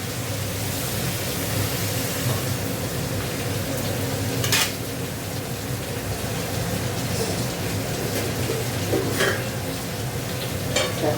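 Water poured into a hot pan hisses in a steady, loud sizzle after the pan is covered, while bitter gourd cooks. The noise stays dense and constant, with a few faint clinks of utensils.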